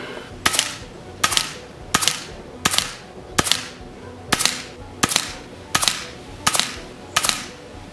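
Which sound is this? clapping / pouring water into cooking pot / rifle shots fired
rifle shots fired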